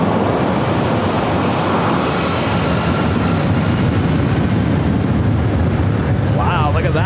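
Southwest airliner rolling down runway 27 at San Diego airport, a loud, steady roar of jet engines filling the whole stretch, with a brief voice near the end.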